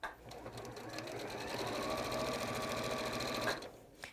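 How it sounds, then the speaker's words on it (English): A Juki sewing machine runs a straight stitch along the raw edge of a fabric pocket, a close, steady whir of rapid needle strokes that speeds up and then stops. "just reverse stitching at the top of that second pocket and sewing to the raw edge there."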